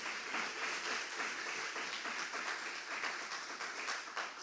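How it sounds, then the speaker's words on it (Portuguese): Congregation applauding Jesus during an online church service with Holy Communion; a continuous wash of clapping from many hands, even and sustained at a moderate distance. "Vamos aplaudir a Jesus então,"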